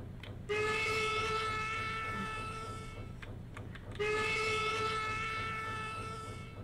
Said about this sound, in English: My train's going as fast as it can.